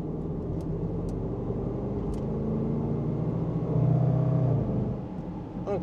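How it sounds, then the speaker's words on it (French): A Range Rover SVR's big V8 engine accelerates hard, a steady deep rumble that swells into a louder revving surge near the middle before easing off, heard close up with no talking. "Cette sonorité là, pouh, un bon gros V8 là"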